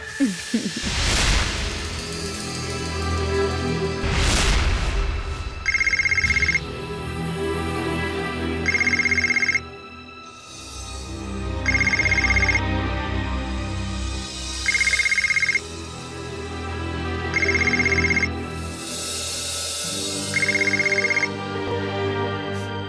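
A telephone rings in a steady repeating pattern, about six electronic rings evenly spaced and clearly audible over dramatic background music in a television drama.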